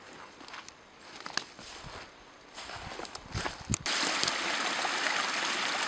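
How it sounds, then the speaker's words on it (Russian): A small mountain stream at its source in a forest ravine in winter, a soft trickle mixed with footsteps on a path, with the water swelling to a steady, louder rush toward the end. "мы подошли по дороге к тому месту, где начинается ручей"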